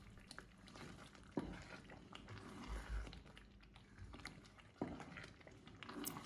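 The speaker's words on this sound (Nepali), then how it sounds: "मजाले चलाइदिन्छु।" Carrot kheer (gajar halwa) with cardamom powder and fried dry fruits being stirred in a pot: soft, steady wet scraping and gentle bubbling, with a couple of sharper knocks of the spoon against the pan.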